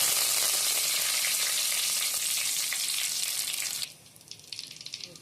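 Curry leaves crackle and sizzle loudly in hot oil for chicken gravy, a dense steady frying hiss that drops off sharply near the end into quieter, intermittent spitting.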